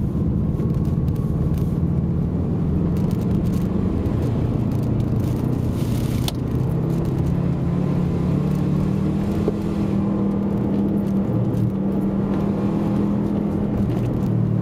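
A Subaru WRX and an Audi race on an ice track, their engines giving a loud, continuous revving rumble with shifting pitch as they go wheel to wheel.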